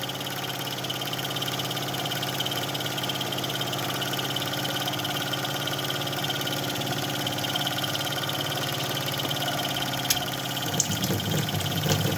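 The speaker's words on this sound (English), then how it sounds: "So these Mamod steam engines, they're real cool" A 1970s Mamod stationary steam engine with its toy boiler runs steadily at close range, giving a continuous mechanical whir and hum with faint rapid ticking, unbroken for the whole stretch and free of talk.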